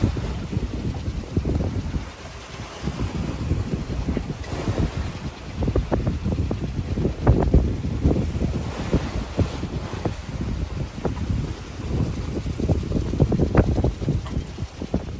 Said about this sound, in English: About 25 knots of wind coming from astern